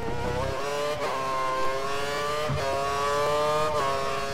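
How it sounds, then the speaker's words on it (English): F1 car engine from the F1 2013 racing game howling at full revs on the Italy circuit, a steady high-pitched scream with brief gear-shift dips, loud and continuous. "We think the car behind is running on full revs."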